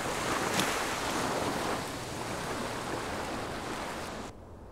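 Steady wash of beach waves rolling onto shore in a Unity 3D interactive soundscape, broadband surf with a slight wind-like hiss, constant and fairly close, then dropping abruptly quieter near the end as if moving away.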